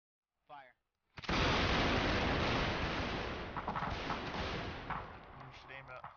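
A musket volley in the Civil War game North and South: one massive roaring blast of many guns firing together, rumbling and fading over several seconds, with a voice briefly before it and faint talk near the end.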